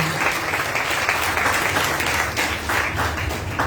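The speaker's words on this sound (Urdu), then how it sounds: "خدا کے کلام کے لیے اور خدا کے منصوب کو ہم زوردار تالیوں سے ویلکم کریں گے۔" Audience applause welcoming a pastor at a church gathering: steady, dense clapping from a crowd throughout, close and full, with no speech over it.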